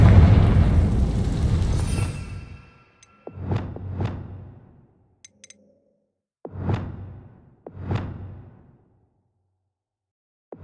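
Fiery spell blasts from Confringo cast in Hogwarts Legacy, with a long whooshing burst up front followed by three separate booming fire impacts at steady intervals, each fading out before the next.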